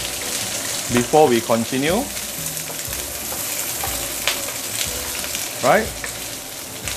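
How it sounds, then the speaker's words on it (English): Prawns pan frying in hot oil for claypot glass noodles, a steady sizzle running throughout beneath a voice speaking over it. "let's pan fry the prawn for a couple of minutes"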